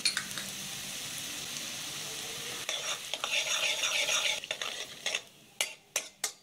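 Black cumin seeds and asafoetida fry in hot mustard oil in a kadai over low heat, a bright crackling sizzle that swells midway, then several sharp spoon knocks against the pan near the end.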